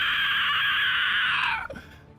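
A human voice imitates the screech of a faceless creature of broken flesh and stringy, tapestry-like fabric, sustained and loud for about a second and a half before breaking off into a short falling rasp.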